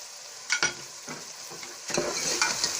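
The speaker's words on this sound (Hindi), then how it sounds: "अब इस मसाले को थोड़ी देर भून लेंगे।" Spiced masala of salt, turmeric, red chilli and dried coriander frying in a pan for tinda gravy, a steady broadband sizzle with a few sharp scraping stir strokes, the frying growing brighter and louder toward the end.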